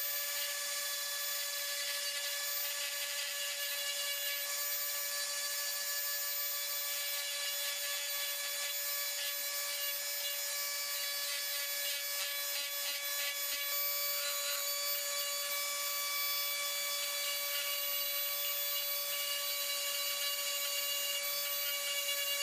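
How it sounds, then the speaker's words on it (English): A Dremel rotary tool carves an epoxy putty arrowhead with a steady, high, unbroken whine that holds at one level throughout, close and with no talk. "I got the Dremel out and started doing a little bit of carving."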